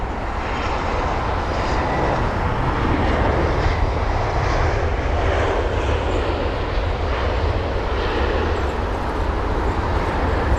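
A British Airways Airbus A320 jet at London Heathrow gives off a continuous broad roar that holds steady throughout, distant rather than close, with no talking.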